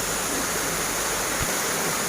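Monthathan waterfall in Chiang Mai pours in a steady, dense roar of falling water, close and continuous with no voices over it.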